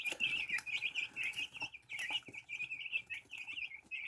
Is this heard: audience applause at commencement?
no